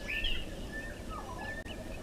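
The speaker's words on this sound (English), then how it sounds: "Guinea fowl in the distance, sounds like a squeaky wheelbarrow." Guinea fowl call faintly in the distance at a waterhole, thin squeaky chirps rising over a low, steady outdoor background.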